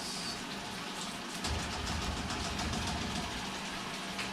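Water at a rolling boil in a covered cooking pan on a stovetop gives a steady, dense hiss and rumble, even and fairly quiet, with no voices over it.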